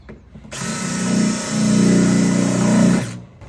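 A power drill bores into hardened rivets on an overland expedition truck build, spinning up after a brief pause and grinding loudly and steadily for about two and a half seconds at close range before cutting off.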